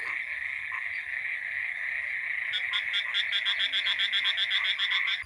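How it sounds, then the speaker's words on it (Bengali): Frogs croak at night after rain in rural Bangladesh: a continuous high chorus throughout, with one nearer frog joining in a fast, regular pulsing call for the last few seconds, fairly quiet and with no talk. "খালি ব্যাঙের ডাক"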